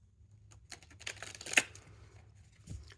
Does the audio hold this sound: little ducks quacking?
no